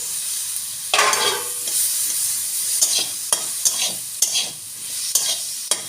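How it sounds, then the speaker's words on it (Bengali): Tomato, soybean, ginger and green chilli fry in a pan with a steady sizzle, while a spatula stirs and scrapes in repeated short strokes close up. "এবার টমেটোটা একটু নাড়বো এবার টমেটো সোয়াবিন একটু নেড়ে নিই"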